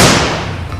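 Yellow toy shotgun firing, a single loud sharp burst that decays quickly, with no voices.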